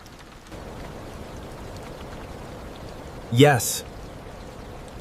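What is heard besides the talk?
rain falling on a station roof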